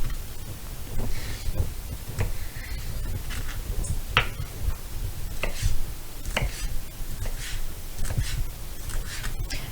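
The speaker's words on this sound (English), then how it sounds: "I'm just cutting lengthwise 3 times and 3 times this way to make little cubes" A knife cuts sausage into small cubes on a board for Polish bigos, giving a series of sharp, close chopping taps at irregular intervals over a low background hiss.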